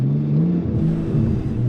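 A car engine revs and accelerates hard on a drag race practice run, a close, loud droning pitch that climbs, dips at a gear change, then rises again over a brief stretch.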